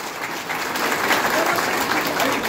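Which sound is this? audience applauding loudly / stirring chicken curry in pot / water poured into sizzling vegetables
audience applauding loudly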